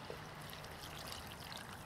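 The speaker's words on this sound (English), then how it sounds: "Pour it all in there." Liquid pours steadily into a cooking pot while Dublin coddle is being made, a continuous close, splashing stream lasting about two seconds with no talk.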